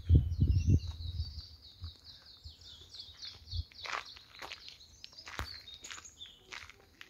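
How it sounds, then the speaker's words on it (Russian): Birds singing in a gorge on the Canary Islands: a clear, rapid trilling song with scattered chirps, moderately close, with footsteps crunching on a path at the start. "Птички поют."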